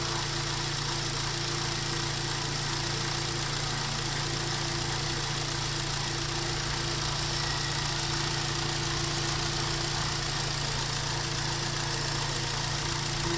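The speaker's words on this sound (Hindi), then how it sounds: "जैसा कि आप देख सकते हैं गाड़ी स्टार्ट कर दी है, और अभी तक ये चलती है।" A 2016 Hyundai Tucson engine idles steadily up close, a constant even hum with a faint whine and vibration and no change in pitch throughout.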